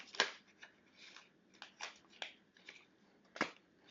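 Cards being shuffled in several quick riffling bursts, crisp papery flutters spaced irregularly, close by with no talking.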